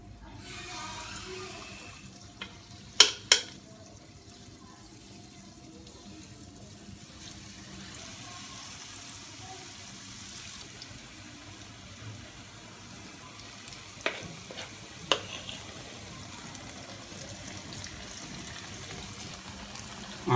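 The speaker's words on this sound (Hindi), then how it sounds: "ऑयल हमारा गर्म हो चुका है। अब हम इसमें भल्ले डाल देते हैं।" Dahi bhalla lentil fritters drop into hot oil and fry with a soft, continuous sizzle and hiss, broken by a few sharp clinks and taps of a utensil near the pan.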